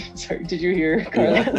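A pet husky whines and yips in high, wavering cries, breaking out in two bursts. People talk over the dog the whole time, and the dog is close and fairly loud.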